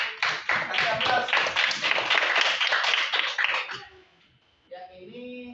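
Classroom applause from a group of students, dense overlapping hand claps for about four seconds, then fading into quiet with a brief voice at the end.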